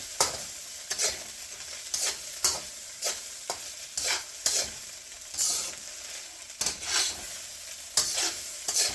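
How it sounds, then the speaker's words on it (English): Rice frying in a hot wok, stirred with a utensil in steady scraping strokes roughly every half second over a continuous bright sizzle, loud and close, with no voices. "keep this going for another minute or two. Get a good fry on our rice."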